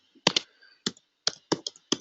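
Keys tapped on a computer keyboard while a Neo4j Cypher query is typed, coming in close, distinct clusters of clicks with short pauses between them.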